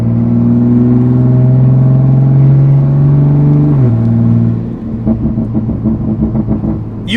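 A turbocharged Toyota Supra with a rear wing holds a loud, deep engine drone, drops in pitch partway through, then settles into a lower, rumbling burble.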